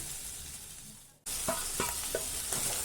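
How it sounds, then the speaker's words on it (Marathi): Mixed vegetables, among them beans and peanuts, sizzle steadily in hot oil for a Bhogi-style khengat, with a brief hush before the frying resumes loud and close, broken by several scraping stirs. "भाज्या आपण छानपैकी तेलामध्ये भाजून घेणार आहे"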